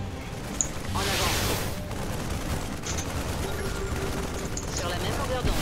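A StarCraft 2 battle full of dense, rapid gunfire and explosive bursts that stays loud and continuous, with game voices talking over the fighting.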